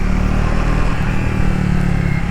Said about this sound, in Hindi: exhaust sound